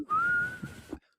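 A voice whistles a light, rising single tone to imitate whistling from a kitchen, short and clear with soft breathy edges, alone and close.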